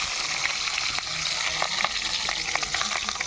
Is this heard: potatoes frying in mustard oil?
yes